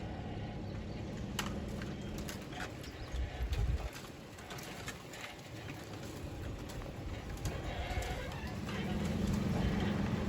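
Desert brush scrapes along the sides of a truck driving through windy Arizona backcountry: a steady, rough scratching and rustling that swells and fades under wind and engine noise, with no one talking.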